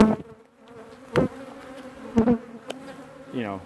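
Killer bees in a large top bar hive, a thin insect buzz with a few individual bees droning close past at intervals, otherwise fairly quiet outdoors.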